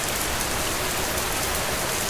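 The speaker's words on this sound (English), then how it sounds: "Yes, it rained here in Vietnam. A lot." Heavy rain pours steadily in Vietnam, a dense, loud, unbroken hiss of drops hitting surfaces nearby, with no voices.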